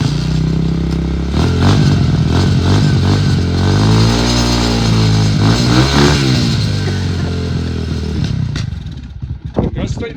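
A Honda CRF-125F motorcycle engine runs with the choke on after sitting unused for a long time, a loud, close, steady idle with slight wavering pitch and some clatter, fading into scraping near the end.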